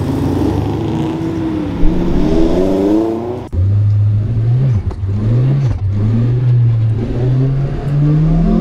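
A 2ZZ-swapped Lotus MR2 Spyder race car engine warming up at a track, loud and close, its revs rising and falling in smooth sweeps before settling into a steady, slowly climbing drone.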